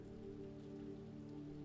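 Steady drizzling rain patters on city streets at night, a soft continuous hiss of drops on wet pavement, even and unbroken throughout.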